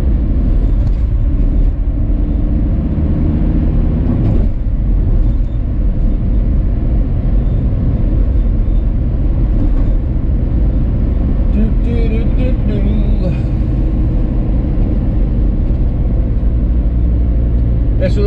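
A VW T4 Transporter van cruises along the road. Its engine and tyre rumble form a steady, loud drone that fills the cabin for the whole stretch, with a voice heard now and then.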